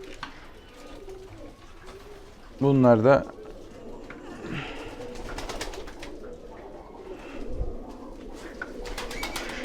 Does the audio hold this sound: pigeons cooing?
yes